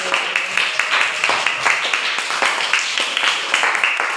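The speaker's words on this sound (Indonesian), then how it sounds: "Tepuk tangan dulu." Classroom audience clapping for a student group presentation, a brisk, even patter of many hands, fairly close and sustained for a few seconds.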